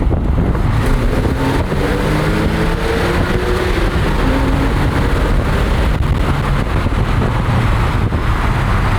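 A Porsche 911 of the 996 generation drives through a tunnel, its engine a steady, enclosed drone with a booming resonance and some wind rush, heard alone without talk.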